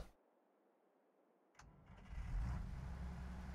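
A tractor engine starting in the Farming Simulator video game, an MTZ 3522 or Bizon mod: after near silence a short click, then the cranking engine builds into a steady low running rumble, fairly faint overall.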